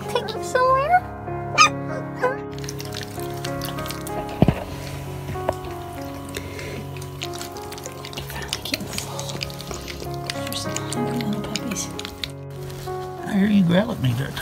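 Puppies found at an old abandoned house bark and yip in short, scattered bursts throughout, with people talking over and around them.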